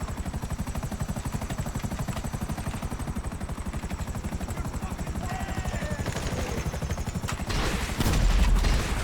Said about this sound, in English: And I'm running another helicopter.